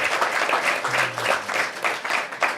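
Audience applause for the hosts of a temple program, a steady wash of many hands clapping throughout at moderate loudness, with a brief low hum partway through.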